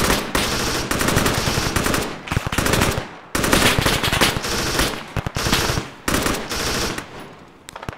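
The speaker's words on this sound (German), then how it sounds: "Schuss von links." Automatic gunfire in the combat game Arma 3: rapid machine-gun bursts rattle out in several separate volleys with brief gaps between them, loud and close.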